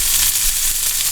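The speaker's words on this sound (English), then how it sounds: "The sizzling of the bacon grew louder until it filled the room with static." Bacon sizzles and crackles in a hot pan, a dense, steady hiss heard up close with no voices.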